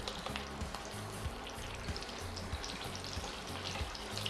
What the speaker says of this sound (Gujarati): આપણે મરચા તેલ તપી જાય એટલે મરચા નાખીને તરત જ આપણે કાઢી લેવાના છે